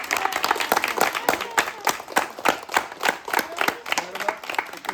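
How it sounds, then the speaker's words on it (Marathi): Loud, close clapping from a crowd of guests at a first birthday celebration, a dense run of sharp hand claps lasting throughout with a few voices mixed in. "असे आपण सर्वांनी जोरात टाळ्या वाजवून शुभेच्छा द्यायच्या"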